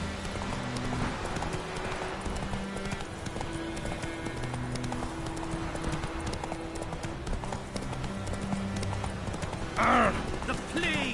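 Steady clip-clop of horse hooves from riding in The Witcher 3, a rhythmic gallop of game sound effects running throughout, with a brief whinny near the end over background music.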